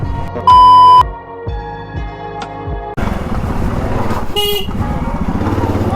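An old motorcycle ridden over a rough, obstacle-strewn road: a loud horn blast and a couple of shorter toots over a low engine, then a steady, louder engine roar with rattling.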